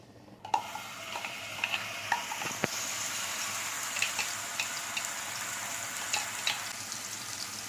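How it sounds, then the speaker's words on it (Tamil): Onion paste sizzles steadily in hot oil in a pan, a continuous bright crackle with scattered sharp pops and a few utensil clinks, close and alone. "இப்போ அதே பேனில் கொஞ்சமாக எண்ணெய் சேர்த்துக்கலாம். அரைச்சி வச்சிருக்க நம்ம இந்த வெங்காய பேஸ்ட்டை இதில் ஆட் பண்ணிக்கலாம்."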